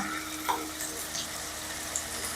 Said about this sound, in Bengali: হালকা আছে একদম আলুগুলো ভেজে নেব।